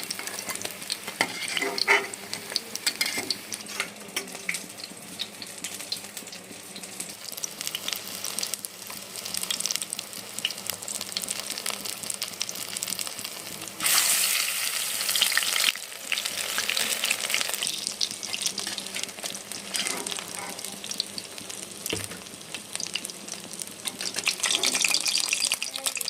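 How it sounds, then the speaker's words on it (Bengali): Pumpkin flower fritters made with lentils fry in hot oil, giving a steady bubbling sizzle broken by occasional stirring and scraping clatter, with a louder burst of frying partway through. "কুমড়োর ফুলের বড়া মুসুর ডাল দিয়ে আমার ভাজা হয়ে গেছে"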